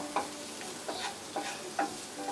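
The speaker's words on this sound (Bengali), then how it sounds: "একটু ভেজে নিব" Onions sizzle softly in oil in a pan as a spatula scrapes and stirs in several quick, evenly spaced strokes.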